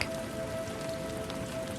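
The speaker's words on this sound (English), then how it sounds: "the rain patters gently against the fabric" Steady rain patters on the fabric of a hooded coat, a dense, even hiss of drops with no pauses, soft and close, with no voices.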